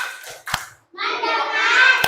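Schoolchildren in a classroom clap in a short rhythmic pattern, sharp hand claps punctuating their chanted voices in unison.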